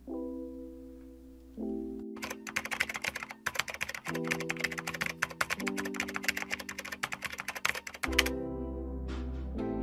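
Rapid, dense clatter of computer keyboard keys being hammered during a Dying Light 2 game session, bursts of close clicking over steady sustained tones from the game, with brief gaps between runs.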